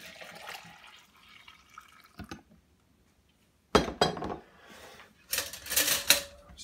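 A fork scrapes and clinks against a bowl in short bursts separated by quiet pauses, with a wet stirring sound as food is mixed.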